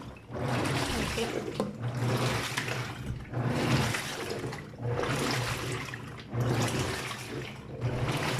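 A Toshiba top load washing machine fills with water, a steady close rush of flowing water that surges in regular pulses every second or so.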